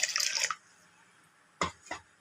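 A brief splash of tamarind water poured into a pot of tomato rasam, followed by silence and then two distinct drips close by.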